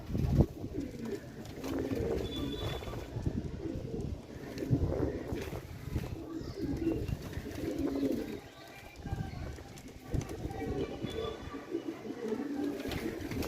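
Pigeons in a loft coo over and over in low, rolling phrases that come in repeated waves, fairly close, with light wind noise and occasional faint talking in the background.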